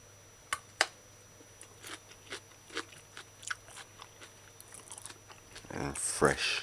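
Close, crisp crunching bites and chewing of firm broccoli in oyster sauce in an irregular series, quiet overall, with a louder rustle near the end.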